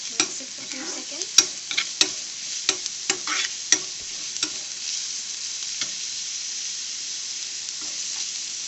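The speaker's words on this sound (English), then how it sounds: "Now to this we will be adding in the garlic. Mix it for a few seconds." Garlic stir-fried with light golden onions in a pan for a dhaba-style chana dal tadka, a steady close sizzle broken by a run of sharp scraping stirs that thin out toward the end.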